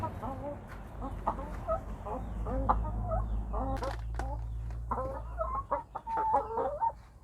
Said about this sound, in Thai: จะพามาให้อาหารไก่ นะ ครับ เลี้ยง ไก่ อยู่ ประมาณ 12 ตัวครับ